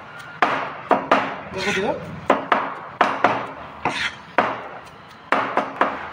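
Paneer being chopped into mince with a knife on a board for veg lollipops, a run of sharp, close, regular thuds in quick bursts, with a voice speaking briefly between strokes.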